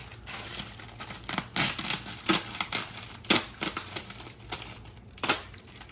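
A cake mix package cut open with scissors in a kitchen, a quick run of sharp snips and papery crinkles, close and fairly loud with no speech.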